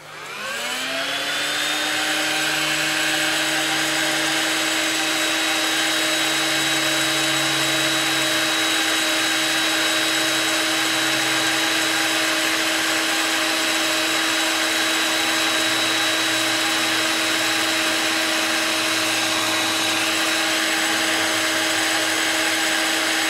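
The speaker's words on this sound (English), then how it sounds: "So I just use my heat gun just to bring the temperature up" A heat gun blows hot air onto a bimetallic switch in a workshop, spinning up at the start and then holding a loud, steady whine with a fan hiss for over twenty seconds.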